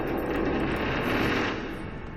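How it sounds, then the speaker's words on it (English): Gunfire from the video game Shadowrun: Hong Kong sounds as a rapid, continuous rattle of automatic shots, rumbling and muffled as though heard from a floor above. It plays steadily for about two seconds with no voices. "Moments later, distant sounds of gunfire filter from above."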